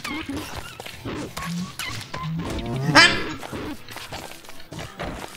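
Beefalo cows in Don't Starve Together give a short moo amid soft thumps and game sounds, with people talking over much of it.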